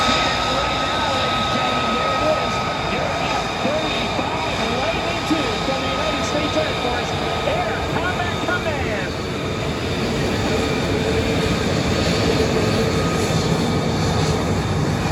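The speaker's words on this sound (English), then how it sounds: "We got the F-35 going out onto the taxiway." An F-35 fighter jet taxis out onto the taxiway at an air show, its engine a continuous, loud whining roar with a sustained high tone, while faint voices are heard in the background.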